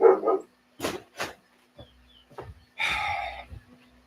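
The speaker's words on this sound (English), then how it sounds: "I want to know why my dogs are going haywire out there" Several dogs bark outside in a quick scattered burst, a few sharp yelps followed by a longer ragged bark, fairly loud and heard on their own.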